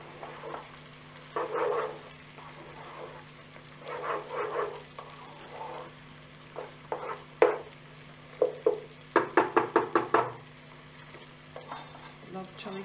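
Chili flakes and pizza sauce cooking down in a pan, with a soft ongoing sizzle broken by bursts of stirring and scraping, including a quick run of sharp clinks near the end.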